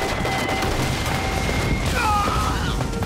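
Dense battle scene from a film: continuous crackling gunfire and booming blasts run under a shouted voice, with a high whistling tone sliding across near the end, all loud and close.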